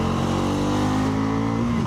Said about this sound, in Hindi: बाइक बढ़िया पिकअप पकड़ रही है।